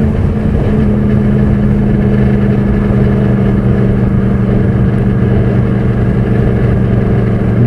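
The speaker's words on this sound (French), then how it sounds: "je suis sur une Yamaha R1 de Seb" A 2012 Yamaha YZF R1 superbike, 1000 cc with 184 hp, idles steadily and loud up close, its engine holding a constant low hum with strong harmonics and no throttle changes or speech.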